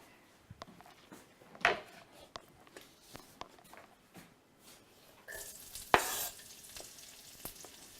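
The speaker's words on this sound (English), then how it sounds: "We just want to cook that garlic a little first." Garlic and shrimp frying in a pan for shrimp scampi, a soft steady sizzle with scattered stirring scrapes and a couple of louder clanks, faint speech in the background.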